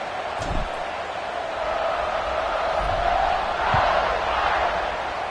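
Stadium crowd noise in a college football video game, a continuous broad roar of fans with slight swells, no commentary over it.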